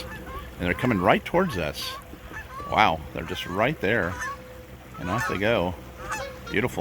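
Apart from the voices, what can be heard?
Canada geese honking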